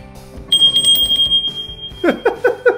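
A bright metallic ringing tone from a bell on a Kubota tractor sustained for about a second, followed by several quick, clangy strikes close by.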